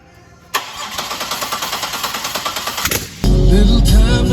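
A supercharged 3800 V6 in a Pontiac Fiero cranks with a fast, pulsing starter chug, then catches and settles into a loud, steady, rumbling idle close by.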